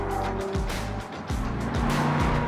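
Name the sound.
Lotus Emira sports car driving on a tight road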